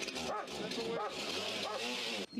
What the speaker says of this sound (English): There are attack dogs here.